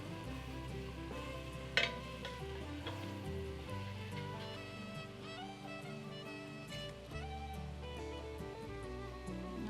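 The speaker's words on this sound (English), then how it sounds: "I got a little browning started, and we got a little bit of fond on the bottom starting" Beef tips browning in a stainless steel pan give a steady close sizzle with crackling spatter and a sharp clatter near the two-second mark, the hiss continuing on its own with no voices.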